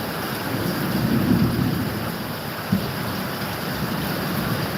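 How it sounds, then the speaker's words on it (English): Steady hiss of the first rain falling in Gboko, a broad continuous wash with a low rumbling band and one brief thump near the middle, no voices. "Let's enjoy the beauty of the rain."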